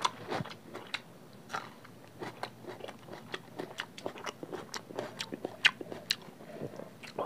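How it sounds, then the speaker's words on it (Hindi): Crisp bites and chewing of spicy egg and vegetable curry, a steady run of close, sharp crunchy clicks repeating every half second or so without talk. "First bite."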